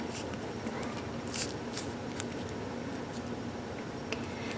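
Post-it note paper being pinched and folded into an origami spider, giving soft crinkly rustles and a few brief crisp creases over a steady faint background hiss, with no voices.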